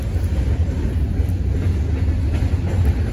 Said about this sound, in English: Just as I thought the train was done, it reversed and now it's going the other way.